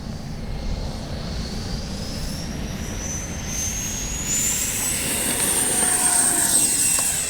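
A Freewing A-4 Skyhawk RC jet with an 80mm ducted fan flies past, its continuous turbine-like whine rising in pitch and growing louder as it nears.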